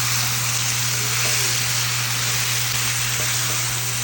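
Shrimp sauteing in a hot pan, a steady broadband sizzle like frying or rain, continuous and fairly loud with a low electrical hum beneath, no talking.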